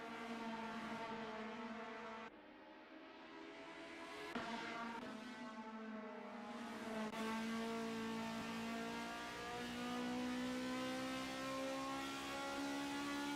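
Race cars in a Honda sim racing series round at Snetterton accelerate out of a 180-degree hairpin, with several high engine tones rising and overlapping as the cars pull away, steady and alone without commentary.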